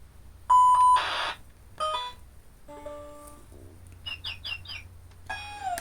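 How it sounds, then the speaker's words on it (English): An older electronic toy gives a string of synthetic beeps and chirpy bird-like tweets in short separate bursts, clear and close with quiet gaps between. "Yeah, it really uses that same bird sound."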